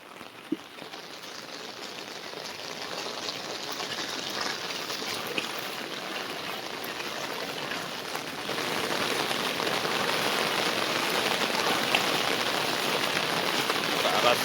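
Heavy monsoon rain in the Konkan region pours down steadily while water runs along a road near a ghat, a dense, close wash of noise that swells slightly louder in the second half.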